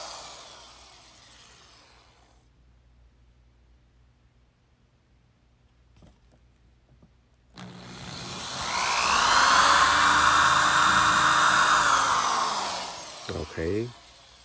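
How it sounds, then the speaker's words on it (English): An electric drill pre-drilling a hole for a Google Nest thermostat mounting plate whines steadily and loudly for several seconds, nearby, after a quieter stretch with faint background sounds. "So right now I'm pre-drilling it using the electric drill machine."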